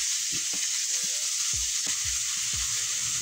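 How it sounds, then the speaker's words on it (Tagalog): Ground pork sautés in a pan with a constant bright hiss of frying, broken by a few low thumps and scrapes as the meat is stirred. "igisa lang po natin yung ating pork giniling ng ating 2 to 3 minutes"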